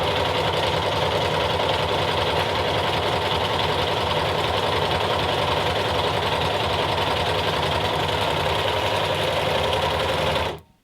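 Overlocker sewing machine running fabric through at a steady fast pace, a continuous close mechanical whirring hum with rapid rhythmic stitching clatter that stops abruptly at the end.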